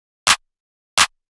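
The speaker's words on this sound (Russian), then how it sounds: "Просто самый дефолтный клэп." Two sharp, dry clap hits separated by a short silence, each a bright broadband burst with a quick decay, cleanly isolated.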